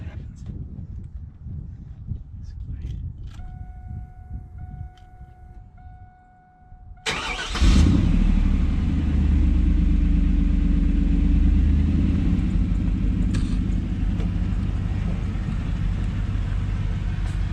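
A car engine, just after new wiring has been installed, cranks and fires up with a sudden loud roar, then settles into a steady, close, rumbling idle. Faint tool clinks come before the start.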